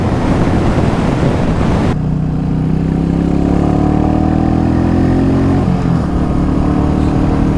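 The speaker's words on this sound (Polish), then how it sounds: "dźwięk silnika na normie Euro 5" A Royal Enfield cruiser motorcycle with a Euro 5 engine idles with a steady low rumble, then its pitch rises and falls slightly as it runs on, loud and close with no voices.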